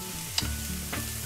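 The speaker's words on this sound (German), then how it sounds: "Also in Butter habe ich jetzt schon mal die Zwiebeln etwas angeschwitzt, glasig" Onions sautéing in butter in a frying pan give a steady low sizzle, broken by two brief scraping stirs, close and moderately loud with no talk.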